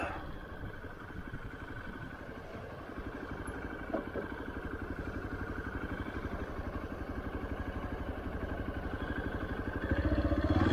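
A motorcycle engine idles steadily at close range for several seconds, its low rhythmic chug continuous and growing slightly louder near the end, at a large police station on the way to the Barabar caves in India.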